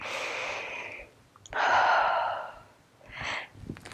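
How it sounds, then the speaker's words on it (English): Slow, deep breaths during a yoga-style cardio flow: a long airy exhale, a pause, a second full breath, then a shorter one, close and clear against quiet background. "Let's just take a couple deep breaths."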